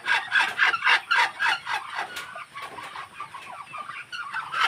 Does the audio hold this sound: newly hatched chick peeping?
yes